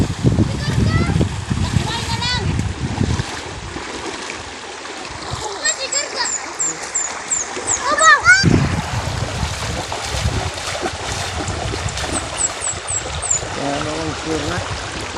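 Water splashing and trickling in a shallow province river while people gather stones, with a steady flowing stream underneath, intermittent louder splashes, and voices talking and calling out nearby throughout.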